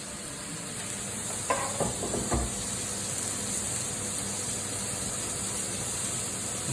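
A pan set on a gas hob gives off a steady, wide hiss that runs the whole time, with a few brief clinks and knocks of cookware near the start.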